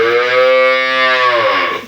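A cow at a cattle market gives one long, loud, close moo that holds steady and then tails off at the end.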